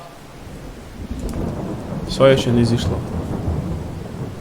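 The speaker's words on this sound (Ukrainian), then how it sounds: "У нас тут дощик пішов." Rain and rolling thunder from a Farming Simulator 22 game weather scene; a steady rain hiss with a louder thunder rumble swelling in the middle, while someone speaks briefly over it.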